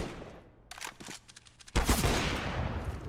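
Counter-Strike match gunfire: quick bursts of automatic shots, then a louder, sustained volley of rapid fire near the end.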